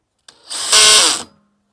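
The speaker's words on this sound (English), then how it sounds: "Now I'm swapping the drill bit to the included socket and changing the drill setting, the drill's clutch setting" Cordless drill fitted with a socket and set to clutch setting 4, driving a fitting into a chicken waterer: a single close, loud whirring burst lasting about a second, ramping up in pitch before cutting off.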